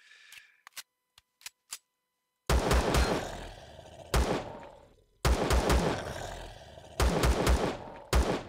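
Gunfire in the survival game Empyrion - Galactic Survival comes in loud, close bursts of rapid shots, separated by short pauses after a few faint clicks at the start.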